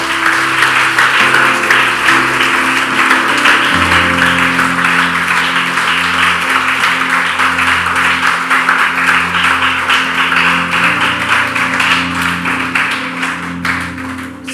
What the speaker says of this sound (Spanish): alguien debería darle un aplauso al Señor